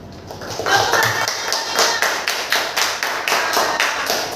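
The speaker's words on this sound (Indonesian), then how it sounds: "Nah, beri tepuk tangan dulu untuk temannya yang sudah praktek ke depan." Schoolchildren in a classroom clap for classmates who have just finished a practice demonstration, a rapid uneven patter of many small hands building up and continuing steadily.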